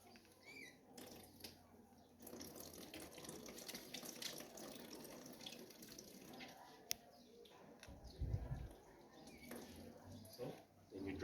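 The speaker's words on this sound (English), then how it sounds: "we have to wash hands" Hands being washed under a running tap before an abdominal examination, a soft continuous rush of water with faint splashes and handling noises, fairly quiet and alone.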